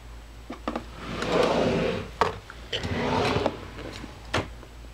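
A makeup storage drawer for bronzers and contours slides open with a rubbing, woody scrape and a few sharp knocks and clicks, close and moderately loud, with no talking.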